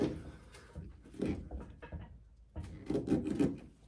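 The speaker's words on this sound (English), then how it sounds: "Get a big flat blade screwdriver and just push it in." A big flat blade screwdriver forces a part into place on a VW Beetle, giving short, close scraping and creaking pushes in uneven bursts with brief pauses between.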